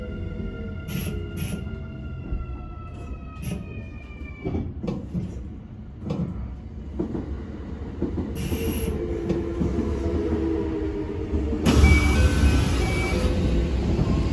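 A Kintetsu Series 21 local train runs along the line with steady rumbling wheel noise, rising high squeals and bursts of brighter hiss, loud and close as if heard from inside the car.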